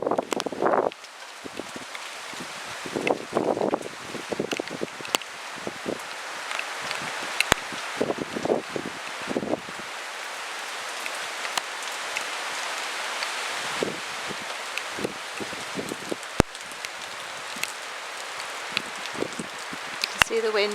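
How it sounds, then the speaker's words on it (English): Steady heavy rain hisses with gusts of wind through trees on a stormy day in Wales, scattered close drips and rustles throughout, loud and continuous. "You can see the wind in the trees. And it's raining really heavy."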